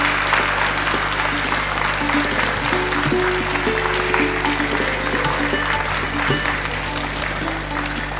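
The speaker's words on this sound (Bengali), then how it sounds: "সবাই একটা জোরে হাততালি।" An audience claps loudly at a dance and culture institution's inauguration, a sustained wash of hands over a constant low hum, while faint voices and a few tonal sounds come through underneath.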